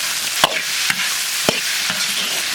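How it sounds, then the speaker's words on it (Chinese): Shrimp tails stir-fried in a wok with oil, garlic cloves, dried chilies, Sichuan peppercorns and spicy chili sauce: steady close sizzling cut by four rhythmic spatula scrapes about half a second apart. "炒香炒虾尾。"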